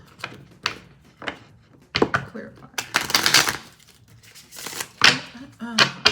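Someone shuffles a tarot card deck by hand, making a series of short, crisp riffling and slapping bursts, some close and loud, between bits of quiet speech.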